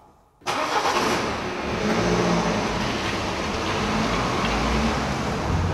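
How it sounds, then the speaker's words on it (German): A car engine starts abruptly after near silence and keeps running loud and steady as the vehicle pulls away, with a mid-pitched drone and a broad roar close by. "Und jetzt losfahren."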